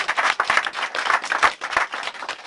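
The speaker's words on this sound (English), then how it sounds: "go ahead, you can applaud." Audience at the Armenian genocide monument at Fresno State breaks into steady, dense applause, many hands clapping together close by throughout.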